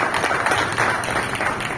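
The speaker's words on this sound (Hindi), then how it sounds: "सर के लिए जोरदार तालियां हो जाए" Steady audience clapping in honour of a speaker at a gathering, a dense even patter of many hands with no voices over it.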